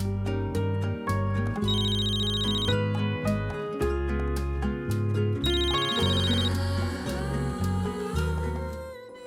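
Telephone ringtone playing in a TV drama scene over loud background music, a melodic electronic ring repeating in two bursts.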